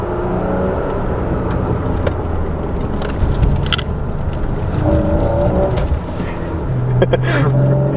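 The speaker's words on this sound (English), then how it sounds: "Get a few downshifts going." Porsche 981 Boxster engine drones steadily from the cabin during paddle-shift downshifts, with brief blips and rising revs between gears and a voice talking faintly underneath.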